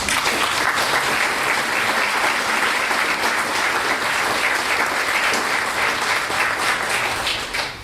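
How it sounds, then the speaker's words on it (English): A large audience at a UC Merced talk event applauds warmly and steadily, a dense wash of claps holding at full strength, then fading slightly at the close. "I'd like to give a round of applause to Agnes Wong."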